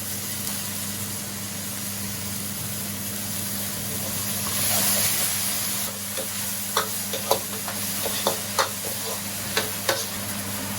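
Scallions and sweet bean sauce stir-fried in a small amount of oil, a steady close sizzle with a swell midway, then a run of sharp spatula scrapes and taps against the wok.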